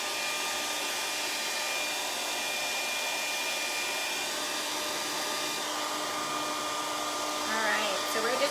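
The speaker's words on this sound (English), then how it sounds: "Alright, so we're just blow drying this" A hair dryer blows a steady, loud whoosh over freshly stained wood, a continuous airy roar that holds level throughout, with a brief shift in tone near the end.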